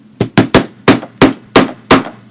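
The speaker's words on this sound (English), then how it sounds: "It's even a good idea to take your little hammer." A small hammer taps staples into a red and white deco mesh wreath, seven sharp, close blows in an uneven rhythm with brief pauses between them.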